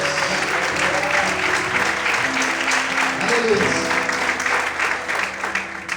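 A church congregation applauds and exalts the Lord during an evening service, sustained loud clapping with crowd voices and a shout over a low musical hum.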